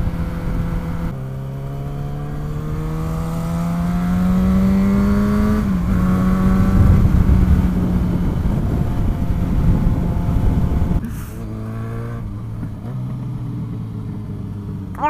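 A motorcycle engine hums and climbs through the gears while riding, its rising drone pulling up and dropping back between shifts, loud and close and heard with no talking.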